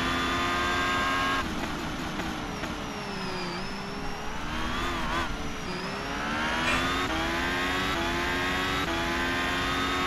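A Formula race car engine in a sim racing game at Singapore revs and shifts through gears, its pitch sliding up and down with several downshifts. The engine drones steadily and close with no speech.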